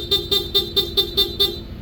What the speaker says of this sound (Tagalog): stock horn yung tutunog kay sir.